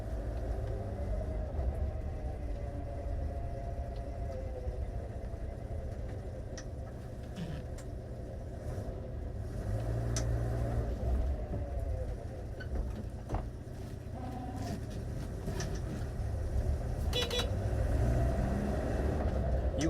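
A 1983 Citroën GSA Special Break estate car drives after repairs, its engine and road rumble steady and close from inside the cabin, with faint scattered clicks and knocks over a continuous low drone.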